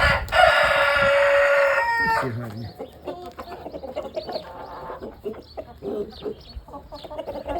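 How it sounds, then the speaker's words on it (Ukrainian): A Jersey Giant rooster crows loudly up close in one long call, then the flock of Jersey Giant hens clucks in soft, scattered bursts around the yard while someone speaks briefly. "яка гарна курочка"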